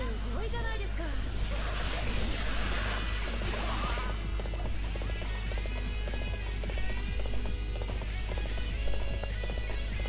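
A horse summoned in the video game Warriors Orochi 3 gallops with rapid clip-clopping hoofbeats amid battle noise and crowd clamor, all mixed under a continuous game soundscape.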